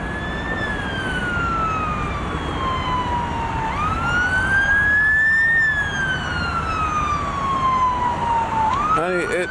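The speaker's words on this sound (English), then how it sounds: "you can hear the sirens now" Emergency vehicle sirens wail in long rising and falling sweeps amid street noise and smoke after a building strike, loud and continuous across the whole stretch, with a second faster siren joining at the end.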